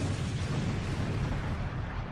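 A huge meteor explosion from the Undead Unluck anime rumbles as a dense, sustained boom with heavy low roar and hiss, loud and steady without any voices.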